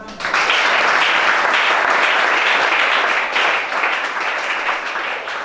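Steady, dense applause fills a church as the congregation at a deliverance service claps together, loud and continuous from start to finish, easing slightly near the end.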